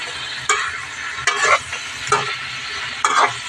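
Onion and garlic sautéing in a pan, with a steady sizzle broken by several louder bursts as the pieces are stirred at close range.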